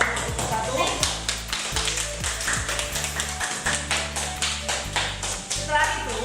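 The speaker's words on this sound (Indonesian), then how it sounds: "Beri tepuk tangan dulu kepada kelompok 1" A classroom group claps after presenting, with a steady patter of hands close by alongside rhythmic tapping, lasting several seconds while a voice speaks over it.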